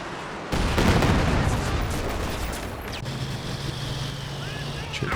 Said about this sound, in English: that was a sort of hit from the Katyusha there